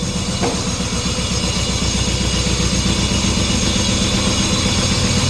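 A small John Deere 650 4x4 diesel tractor engine chugs steadily at a low idle-like rumble, constant and close, with no voices.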